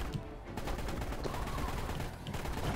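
Dense, continuous video game gunfire in a chaotic dinosaur battle, rapid overlapping shots and bursts filling the scene at a steady loud level without pause.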